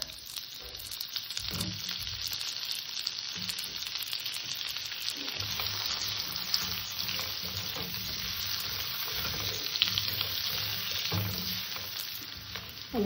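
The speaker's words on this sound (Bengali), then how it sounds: "আলু কটাকে একটু ভেজে নেব।" Potato pieces fry in hot oil in a home kitchen, a steady loud sizzle and crackle that runs throughout, with occasional stirring scrapes.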